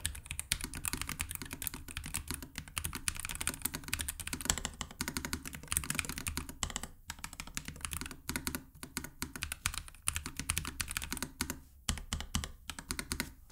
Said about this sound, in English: But here is a quick typing test.